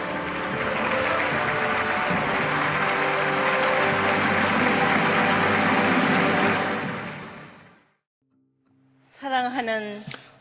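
A large rally crowd rises to welcome someone with a dense, sustained roar of applause that fades out after about seven seconds, followed by a short silence and then a speaking voice.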